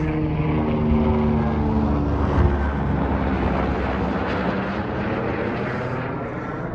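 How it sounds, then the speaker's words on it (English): A police helicopter flying overhead gives a loud, steady rotor and engine drone that stays close and constant throughout, its tone slowly falling as it passes, with no talking. "The police helicopter is going to catch up with me and make me unhearable."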